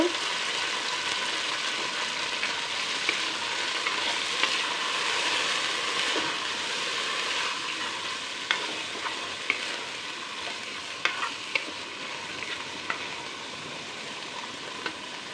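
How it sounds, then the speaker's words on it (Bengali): Mixed vegetables fry in oil in a pan with a pinch of salt, a steady close sizzle and crackle broken by scattered sharp pops and the occasional scrape of stirring. "সবজিগুলো ভাজার জন্য আমি তেল দিয়ে দিলাম আর সবগুলো সবজি দিয়ে দিব।"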